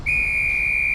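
Referee's whistle blown to signal a goal in a street football match: a single sharp, steady blast held for about a second, loud and close, over low background rumble.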